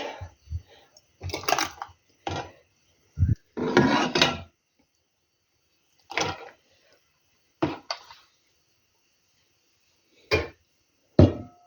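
A hand seaming key crimps lids onto glass jars of plum jam in short, separate bursts of grinding clicks, with quiet pauses between them.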